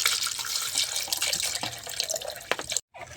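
Water pours steadily into a container for a ginger, carrot and lemon drink, a close, continuous splashing hiss with a few brief drips, ending in a short silence.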